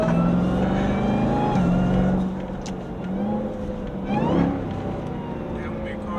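Jeep Trackhawk accelerating hard and downshifting, its supercharger whining over a loud engine roar that rises and dips with gear changes, heard from inside with voices talking over it.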